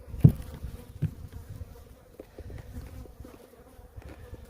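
A good-sized honey bee colony buzzing around an apiary yard, with soft close wingbeat hums and individual bees passing near, at a fairly faint level.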